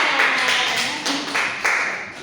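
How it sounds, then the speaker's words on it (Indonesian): Elementary school students in a classroom clapping together in rhythmic bursts, loud and close, a short patterned round of applause with no talk. "Beri tepuk tangan untuk Desti dan Aceh."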